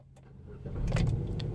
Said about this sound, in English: You should hear your car start up.